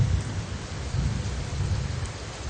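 A low rumble of thunder from a close thunderstorm cell over Miami churns steadily beneath constant rainfall, loud and unbroken through the short stretch, with no one speaking.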